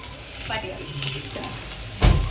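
Chopped onion frying in a pan for a prawn curry, a steady close sizzle with a few stirring scrapes and a louder clatter near the end. No one speaks.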